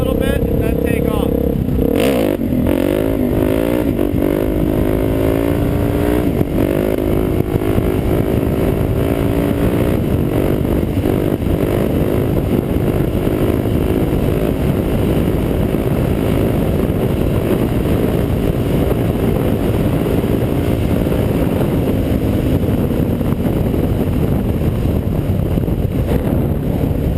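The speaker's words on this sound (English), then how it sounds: "Pull in the clutch, rev it up a little bit, and then take off." A dirt bike engine revs briefly with the clutch pulled in, then pulls away in second gear, its loud, continuous drone carrying steadily for a long stretch alongside wind rush.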